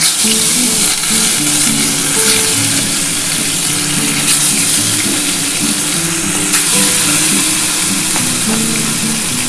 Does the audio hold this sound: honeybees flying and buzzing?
no